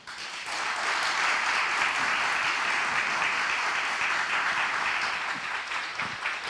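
A large symposium audience gives dense, sustained applause after a lecture, a steady wash of many hands clapping at once that tapers slightly near the end, with no talk over it.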